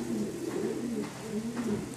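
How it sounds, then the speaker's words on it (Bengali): Road Master pigeons coo softly in a loft, low rolling calls repeating in a gentle rhythm at moderate distance, fairly quiet, with no speech. "এখানে যা দেখতে পাচ্ছেন সব রোড মাস্টার কবুতর"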